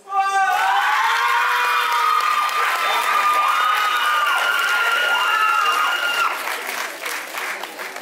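An audience at a Lady and Lord pageant evening in Réunion applauds a contestant: sustained, loud clapping with cheering and whoops, a shrill voice rising over it, tapering slightly near the end.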